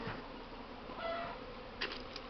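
Honeybees swarm around the hive on a strong spring cleansing flight, a steady dense buzzing drone of many insects close by, with a few louder passes near the end.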